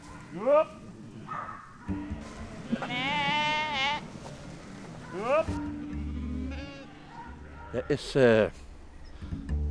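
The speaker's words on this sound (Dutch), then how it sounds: "Een van de laatste herders van Nederland hoedt er zijn schapen." Sheep bleat repeatedly on Dutch heathland in Roerdalen, Limburg, with several wavering calls of varying pitch, some near and loud, while someone speaks Dutch over them.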